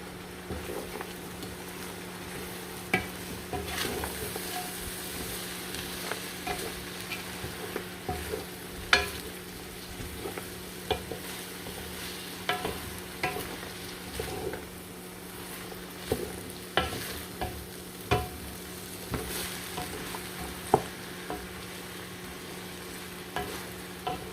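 Okra frying in a pan is stirred with steady scraping and clinking strokes over a constant background sizzle, with no talking.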